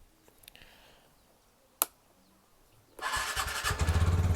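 A TVS Ntorq scooter with an irritating engine noise: a single sharp click, then the engine starts near the microphone at about three seconds and runs loud with a rough, pulsing rattle.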